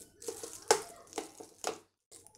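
Thick sabudana (tapioca pearl) pancake batter is stirred after a little water is added, giving soft wet sloshing and scraping strokes in an uneven rhythm, close and fairly quiet, with a short pause near the end.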